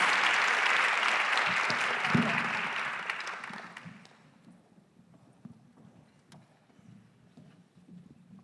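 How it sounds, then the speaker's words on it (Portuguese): Audience applause at a mining innovation summit in Portuguese, a dense wash of clapping that holds for about four seconds and then fades out, leaving quiet room noise with faint voices. "Podem bater palmas."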